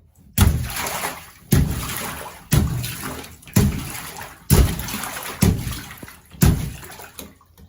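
Water in a bathtub drain being pushed by a foot pumping down on it, seven sharp sloshing surges at roughly one-second intervals, each fading into a gurgling trickle, loud and close.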